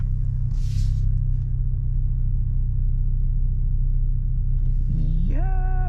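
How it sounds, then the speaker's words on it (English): A Volkswagen GTI, a Mk7 or Mk8 generation, idles steadily after being parked, with a constant low rumble and no revving. Near the end a short rising whine climbs and then holds. "So once you park, let it idle for 30 minutes."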